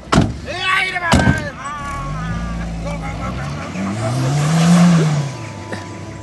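A car pulls away nearby, its engine rising into a revving surge that swells and fades, after a door thuds and people shout briefly at the start.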